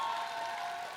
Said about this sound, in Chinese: 所以这个也要把掌声送给贺野